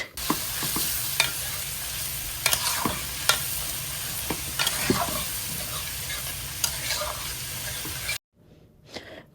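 Onion paste fries in mustard oil with nigella seeds in a pan, giving a close, steady sizzle with frequent scraping stirs and small clatters, then falling quiet near the end.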